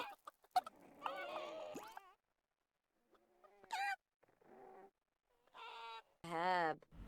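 Chickens in The Sims 4 cluck in short scattered bursts, with quiet gaps between them and a louder squawk toward the end.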